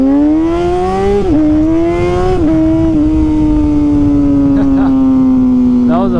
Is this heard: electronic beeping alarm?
no